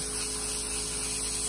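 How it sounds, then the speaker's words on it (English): Water spraying from a nail grinding drill while it works on nails keeps up a steady hissing, whirring drone with no change in level and no talk. "water spraying"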